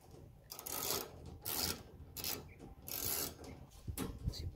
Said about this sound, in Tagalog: Tayo mag-higpit ng mga tornilyo.